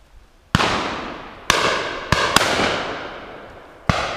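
Shotgun shots on a driven shooting day at an estate, five sharp loud blasts at irregular intervals, each with a long rolling decay across open country, no talk.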